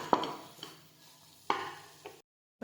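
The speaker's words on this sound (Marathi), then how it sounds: "आपण 2 चमचे शेंगदाण्याचं कूट घालणार आहोत. हलवूया चांगल्या प्रकारे." A spoon stirs a vegetable mixture with ground peanuts in a pan, giving a few soft scraping strokes against a faint sizzle before it falls quiet.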